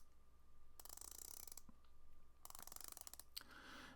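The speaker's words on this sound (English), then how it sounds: "Really nice, distinct clicks. Have a listen." A dive watch bezel on an Addies Dive watch is turned in short bursts, giving crisp, rapid ratcheting clicks close to the microphone. Three separate rotations are heard with brief pauses between them.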